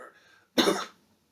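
A single sharp, loud cough bursts out after a faint breathy lead-in, then trails off quickly.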